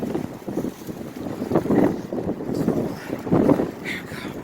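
Strong wind buffets the microphone outdoors on a windy day in Philadelphia, a loud, rumbling, gusting roar that swells and surges in waves, peaking twice.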